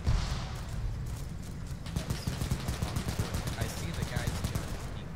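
Rapid gunfire in a World War–era shooter game, a long run of steady, evenly spaced shots under low players' talk on voice chat.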